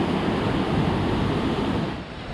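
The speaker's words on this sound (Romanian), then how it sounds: "Acolo unde e Alexa este podul și pe dedesubt curge apa." Steady broadband rush of river water flowing beneath a bridge near a waterfall, a continuous dense wash that stays loud and even, easing slightly toward the end, with no voices.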